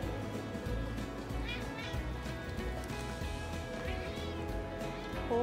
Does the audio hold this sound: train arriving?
no